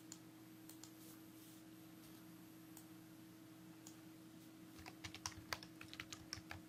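Typing on a computer keyboard, quiet scattered keystrokes at first that turn into a quick, closer burst of clicks near the end, over a steady low hum.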